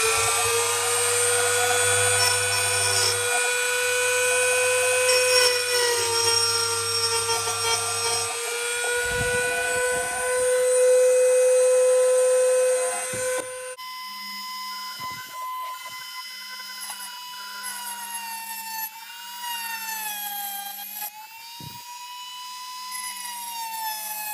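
A small rotary power tool cuts a hole in a plastic case, giving a high, whining, tonal buzz whose pitch wavers and dips as it bites into the material, loud and close, with a few brief pauses and knocks.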